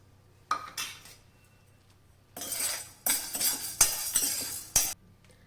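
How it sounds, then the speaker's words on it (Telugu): Chana dal is dry-roasted in a pan, heard as scattered bursts of scraping and clinking from a utensil against the metal, close, with quiet gaps between strokes and no talking. "ఇప్పుడు ఒక పావు కప్ దాకా పచ్చిశనగపప్పును కూడా తీసుకుని దోరగా వేయించుకుందాం."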